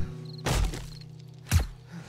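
Two muffled, silenced gunshots in the video game 7 Days to Die, about a second apart, each a short punchy thud over a steady low game-music hum.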